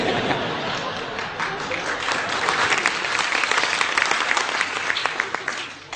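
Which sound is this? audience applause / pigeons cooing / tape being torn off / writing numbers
audience applause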